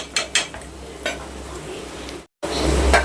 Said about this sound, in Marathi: चांगली भेंडी भाजून घ्यायची